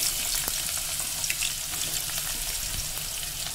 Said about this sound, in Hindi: प्याज फ्राई कर लेना